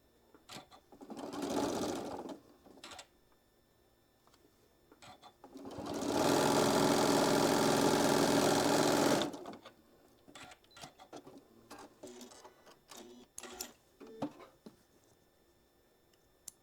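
Sewing machine stitching a quilt piece for a Sew & Show subscription box: a short burst, then a longer steady run of rapid mechanical whirring, followed by scattered clicks and handling sounds nearby.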